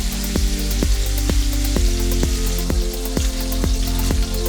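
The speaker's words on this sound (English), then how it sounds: "Get it to a nice sizzle." Chicken sizzles steadily in hot oil in a frying pan, a close, continuous frying hiss with regular ticking beats underneath.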